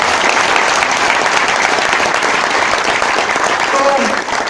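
Seminar audience applauding at a network marketing motivational event: loud, dense, sustained clapping from a large crowd throughout, with a few faint voices mixed in.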